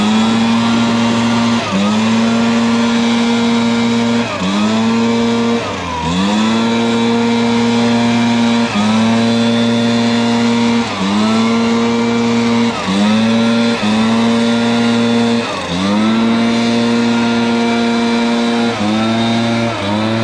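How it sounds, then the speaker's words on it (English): A Stihl BR450 backpack blower runs steadily and loudly at close range, its engine drone holding a constant pitch with periodic throttle dips and swells every couple of seconds, with no talking over it. "I'm gonna have to say that is a very, very nice backpack blower"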